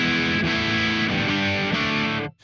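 Electric guitar played through a Fender Mustang Micro Plus preset on the clean amp with the gain turned all the way up, giving a loud, dense, distorted sustained sound that cuts off abruptly at the end, recorded over USB.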